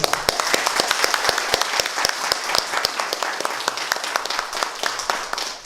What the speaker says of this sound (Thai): ขอเสียงปรบมือให้ท่านหน่อยค่ะ